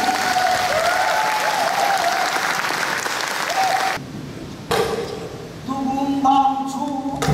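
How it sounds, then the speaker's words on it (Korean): A crowd at a Korean traditional music concert applauds warmly to welcome a pansori singer and drummer, dense clapping for about four seconds before it drops away and sung or spoken voices take over. "힘찬 박수로 맞아주시고요"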